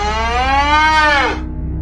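A cow moos once in a video game, a drawn-out harmonic call that rises slightly and then breaks off, loud and close over a steady low background hum.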